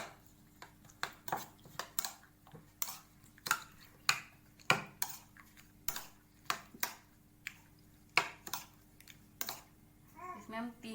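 Eggs being mixed with prawns in a bowl, heard as a steady series of sharp clinks and taps of a utensil against the bowl, fairly quiet, with soft voices in the background.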